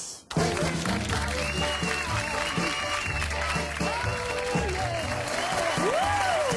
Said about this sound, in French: je vous demande d'applaudir Sophie